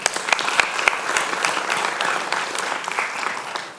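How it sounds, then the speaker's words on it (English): Steady applause from a youth symposium audience for a speaker from St. Vincent and the Grenadines, a dense, even wash of many hands clapping, with a few sharper claps near the start. "Oscar, let's give him a round of applause."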